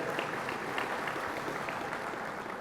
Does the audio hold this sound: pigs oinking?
no